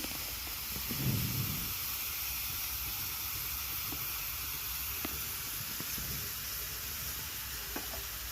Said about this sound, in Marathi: कांदा परतून घेते बारीक कांदा कापून घेतलाय पटकन परततो